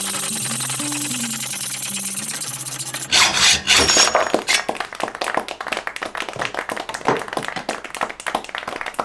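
Hand saw cutting through a saw guide: a humming tone opens the clip, then a loud burst of rasping gives way to a rapid, rhythmic scratching of back-and-forth strokes, close and continuous.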